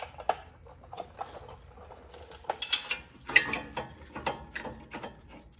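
A hand ratchet tightens the caliper bracket bolt on an Acura RSX during a brake job, giving close, rapid clicking bursts in short repeated strokes with brief pauses between them.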